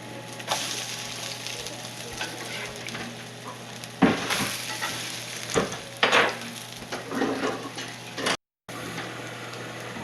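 Potato pancakes frying in a pan crackle and sizzle steadily up close, with several louder bursts of spatter and scraping as they are turned and checked.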